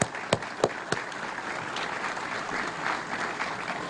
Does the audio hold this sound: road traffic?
no